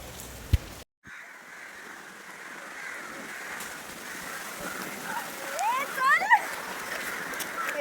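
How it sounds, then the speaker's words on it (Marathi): Water shaken from trees by the wind patters down like light rain on a college campus, a soft, steady spatter that grows busier toward the end, with a brief chirp-like squeak near the end. "हवेनी झाडावरचं जे पाणी आहे ना, ते हवेनी पडतंय."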